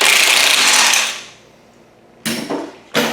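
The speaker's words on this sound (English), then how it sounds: "I've been using this DeWalt tool, and it's pretty good" DeWalt cordless power tool working on the front suspension of an Audi A4: a loud burst of mechanical whirring that fades out, a pause, then two short, sharp bursts in quick succession, close to the microphone.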